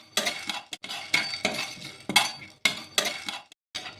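Whole cardamom pods, cinnamon pieces, black peppercorns and cloves dry-roasting in a pan for mutton curry, giving repeated clinking and rattling bursts as the spices are stirred and tossed, close and fairly loud with brief pauses between.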